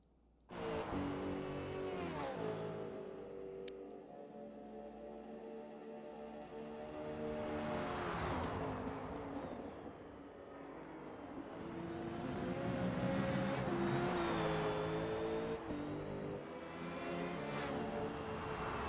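Race car engines in a racing video game whine and rev continuously at Road America, rising and falling in pitch as cars accelerate and pass, with no voices.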